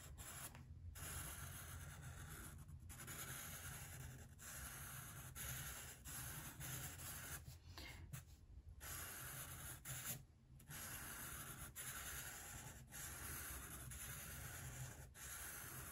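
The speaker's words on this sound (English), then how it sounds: "sound of a Sharpie on the paper" Sharpie marker scratching and rubbing across paper, a faint continuous close-up squeaky friction broken by brief pauses as strokes lift and restart.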